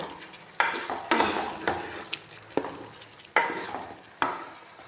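Potato and cauliflower for aloo gobi stirred and fried in a pan, a steady sizzle broken by repeated scraping strokes of a utensil against the pan, close and fairly loud.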